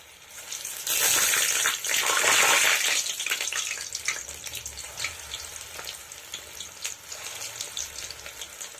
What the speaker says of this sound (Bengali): তো আমি একে একে পাকোড়াগুলো ভেজে নেব।